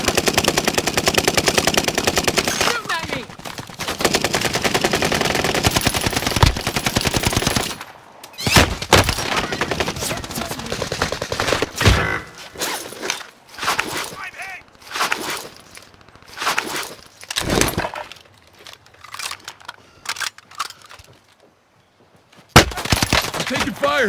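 Rapid automatic gunfire and scattered shots from Call of Duty: Warzone, a battle royale shooter, loud and dense at first, then breaking into separate bursts and single cracks with short pauses, ending in one sharp blast.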